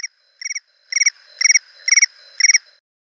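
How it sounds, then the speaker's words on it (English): iPhone Crickets ringtone: synthetic cricket-like chirps in short rapid bursts, about five trills repeating at an even pace, clear and alone. "Crickets. Selected,"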